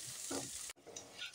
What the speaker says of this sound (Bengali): তো ডাঁটা আর পেঁয়াজ একসাথে একটু সময় নিয়ে ভাজতে হবে